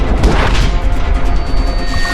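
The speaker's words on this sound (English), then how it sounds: "Robert Ollinger appeared with his terrible double-barrel shotgun." A double-barrel shotgun blast in the Call of Juarez: Gunslinger video game, one loud close boom at the start followed by a dense crashing, rumbling tail without speech.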